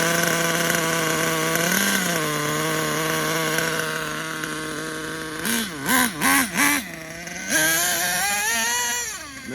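Buzzing high-pitched nitro engine of an HPI Savage 25 RC monster truck revving, holding a steady whine then rising and falling in several sharp blips before surging again, loud and close.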